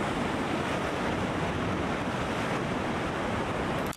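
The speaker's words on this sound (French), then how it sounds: "J'ai passé un moment incroyable à observer les vagues qui viennent s'échouer sur les roches noires." Loud, steady roar of ocean surf breaking on black rocks on a Portuguese island, broad wash of water and wind noise close to the microphone, continuous throughout with no talking.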